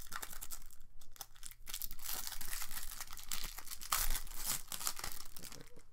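Plastic wrap on a sealed pack of Tiger Leader board game cards crinkles and tears continuously up close, with steady crackling bursts and a louder rip near the end, no talking.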